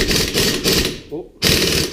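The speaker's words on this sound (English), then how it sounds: "Impact, take the nut out." An impact wrench rattles in rough, repeated bursts as it spins the rear axle nut off a 2012 Polaris RZR 800 S, pausing briefly before hammering again, with a voice heard faintly in the middle.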